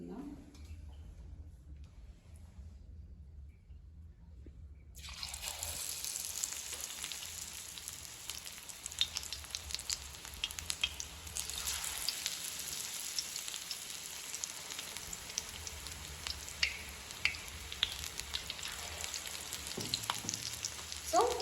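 Capsicum and onion snacks dropped into hot oil, with a loud, steady sizzle and crackle of frying that starts abruptly after a few seconds of quiet and carries on, with faint low background sounds.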